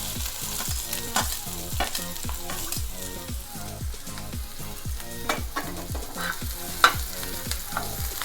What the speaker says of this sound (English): Here we have heated some oil in a pan, and now I'm going to add some finely chopped onions.